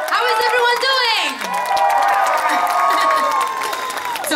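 An outdoor audience at the Eurovillage in Vienna cheers and claps for a Maltese singer, with loud whoops, shouts and sustained high-pitched yelling over a bed of applause.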